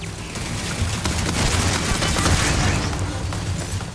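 Gunfight in the video game Starfield: a dense burst of rapid gunfire and booms, steady and fairly loud for a few seconds with no talking.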